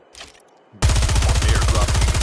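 Dense, continuous automatic gunfire erupts abruptly in a Call of Duty Mobile battle royale match, loud and rapid-fire after a quieter moment with faint chatter, sustained without pause to the end.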